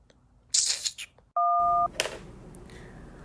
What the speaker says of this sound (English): A dial tone the girl give me.